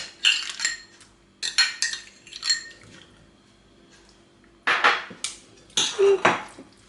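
A vegetable salad is stirred with mayonnaise in a bowl, giving repeated clinks and scrapes of a utensil against the dish in short bursts separated by quiet gaps.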